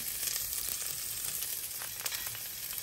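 Chopped onion and garlic frying in oil for spaghetti bolognese sauce: a steady bright sizzle, close and continuous, with no talking.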